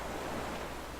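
Rolling ocean waves from an Unreal Engine 4 ocean simulation, a steady broadband wash of surf with no distinct breaks, continuous and fairly close throughout.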